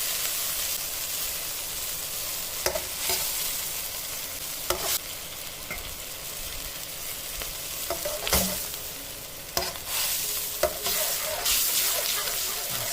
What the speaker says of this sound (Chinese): 然后倒入糖醋汁，再倒入另外1/3的醋。